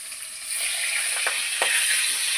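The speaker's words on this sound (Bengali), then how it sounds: "এক পিসটা ভাজা হয়ে গেছে আর এক পিসটা উল্টে দিচ্ছি" Fish pieces sizzle steadily in hot oil, close by, with two brief scraping clinks from a utensil in the middle.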